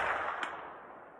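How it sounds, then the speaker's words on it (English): A .45-70 Government rifle firing a 300-grain bullet at a 200-yard range: one sharp report quickly fading into a long outdoor decay, heard alone. "All right, guys, last shot. 4570, 300 grain. This one's 200 yards."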